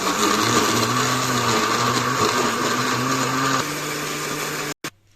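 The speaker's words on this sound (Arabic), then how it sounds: "هنشغل عليهم خلاط" A blender whirs loudly and steadily for several seconds while blending chickpea drink ingredients with water, its motor pitch shifting slightly, then cuts off abruptly with a brief clunk.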